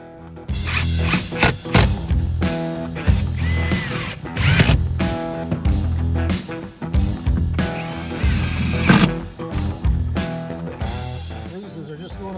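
Power drill driving screws through plywood into blocking, loud close bursts of motor whine and grinding in repeated pulses, with brief pauses and clattering handling sounds between.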